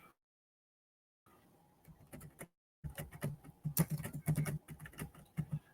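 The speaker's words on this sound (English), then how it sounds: "I can't see what I'm typing" Quick, uneven key taps on a computer keyboard come in bursts after a short silence, faint and close, with scattered louder clicks.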